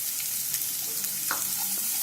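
Soyabean chilli with cabbage and capsicum sizzles steadily in a hot pan, with soft scraping stirs and faint clinks over a constant frying hiss.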